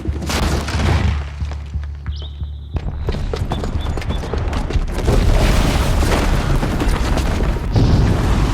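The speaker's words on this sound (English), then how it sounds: "the booby trap on the bomb downstairs is gonna get set off" A bomb's booby trap goes off in Horizon Zero Dawn, a deep, loud boom followed by a long rumbling roar and crackling debris that fill the scene, with a brief high tone partway through.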